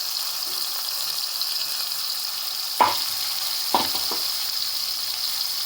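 A ground green chilli and garlic paste sizzles in a pan, a steady close frying hiss broken by two sharp stirring or splatter bursts, no talking.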